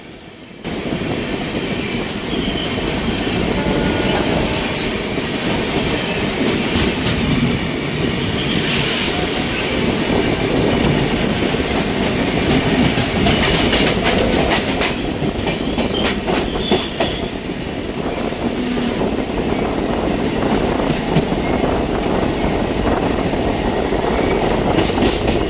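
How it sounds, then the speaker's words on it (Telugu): A MEMU passenger train, number 6722, running on rails between Tenali and Vijayawada, heard from on board: continuous loud rolling rumble with wheel squeal and rhythmic clickety-clack over rail joints, no talking. "మన ట్రైన్ అయితే వచ్చేసింది. Train number 6722. సో స్టార్ట్ అయిపోయింది"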